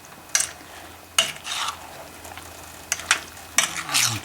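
Minced ginger cooks down in a pan for cherry tomato salsa, a soft sizzle broken by several sharp scrapes and knocks of a utensil stirring against the pan, no talk.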